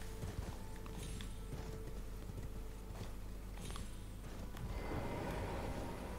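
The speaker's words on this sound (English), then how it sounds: "I definitely need to use the horse to get up" A horse gallops in the video game Elden Ring with a steady run of clip-clop hoofbeats over a constant low rumble of game ambience and music, fairly close and even in loudness.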